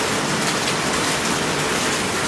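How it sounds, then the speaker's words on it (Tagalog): Heavy rain pours down onto the ground and foliage of a lush home garden, a dense, steady hiss that stays constant and loud throughout with no voices. "lakas ng ulan"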